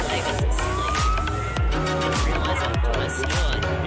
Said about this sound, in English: Sirens, yeah, I'm sure that's what it is.